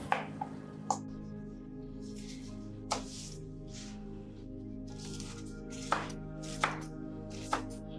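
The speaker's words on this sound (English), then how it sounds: "I'm just gonna chop the head off." A knife chops the head off a bunch of celery on a cutting board, about seven sharp, distinct thunks spread unevenly over a steady low background hum, close and clear, with no talking.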